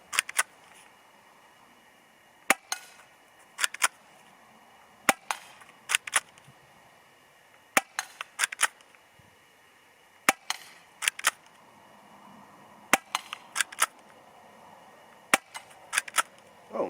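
Sharp, snappy shots from a CZ75 SP-01 Shadow ASG airsoft pistol during accuracy target shooting, fired singly and in quick pairs or triplets with short pauses between, each crack clear and close with no talking.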